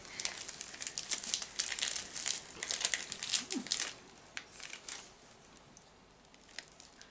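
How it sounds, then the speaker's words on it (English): Crinkly plastic snack packaging rustles and crunches up close for several seconds as scissors cut it, with sharp snipping clicks, then quieter scattered crackles. "do you want to cut it with the scissors again?"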